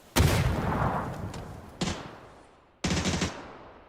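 Sustained burst of M249 light machine gun fire in PUBG, loud and close, with a long continuous volley followed by two shorter bursts after brief pauses.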